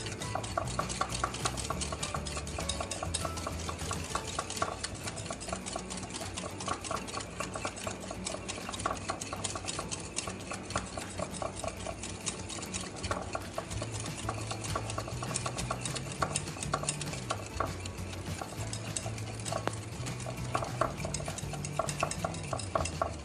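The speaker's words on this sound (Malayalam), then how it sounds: "ശേഷം 3 മിനിറ്റ് വരെ കൈയെടുക്കാതെ നമുക്കിത് ബീറ്റ് ചെയ്തെടുക്കാം." Whipping cream is beaten by hand in a bowl without an electric beater, making a fast, steady, rhythmic whisking and scraping that runs without pause for over twenty seconds at close range.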